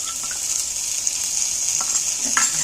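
A spoonful of ginger paste fries in hot oil with cashews and raisins, giving a loud, close, hissing sizzle and a few light stirring scrapes, with no talking over it.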